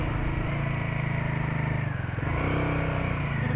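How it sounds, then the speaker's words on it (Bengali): A motorcycle riding along the Gopaldhara mountain road near Mirik, with its engine droning steadily and loudly throughout and a slight dip in revs midway. "মনে হচ্ছে এই রাস্তাতে সারাদিন বাইক চালিয়েই যাই"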